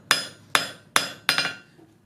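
Hammer striking hot metal on an anvil while forging a taper, six sharp ringing blows at a steady pace with one quick double strike, loud and close with nothing else heard.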